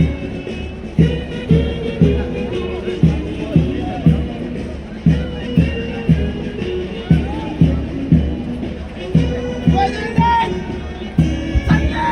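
A large crowd at a football tournament march past and oath-taking ceremony cheers and shouts in repeated swelling bursts, with loud rhythmic rumbling beneath, sustained throughout.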